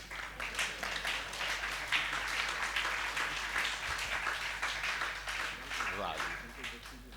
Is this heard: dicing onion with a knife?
no